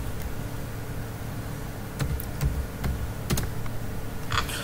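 Typing on a computer keyboard while entering a folder name in Windows: scattered individual key clicks over a steady background hiss, with a few sharper taps near the end.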